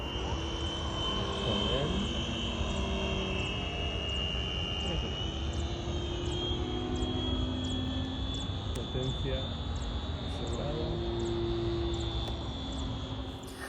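A BJCraft Muscle Cloud RC model airplane flies overhead with a steady whining electric motor drone that shifts slightly in pitch as it maneuvers, continuous and fairly loud, with someone talking over it.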